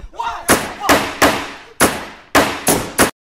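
Seven sharp, loud shots ring out from a gender reveal gun, spaced irregularly about half a second apart, each a bright crack with a short decaying tail, ending abruptly in silence.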